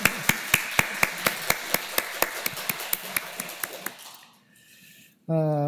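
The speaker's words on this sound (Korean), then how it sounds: "한번 우리 박수해 주시면 고맙겠습니다" A church congregation claps in a slow, even rhythm, each sharp clap distinct and fairly close, steadily fading over about four seconds before a voice begins speaking.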